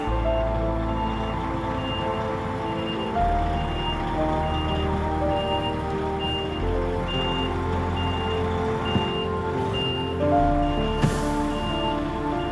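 A truck backs up with its reversing alarm beeping steadily and evenly over the low rumble of the engine, close and loud throughout.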